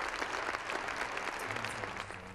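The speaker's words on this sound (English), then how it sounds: "the party faithful, who gave him a rousing round of applause" Party supporters applauding at a political rally, a dense, fairly faint burst of clapping from a crowd that begins to fade toward the end.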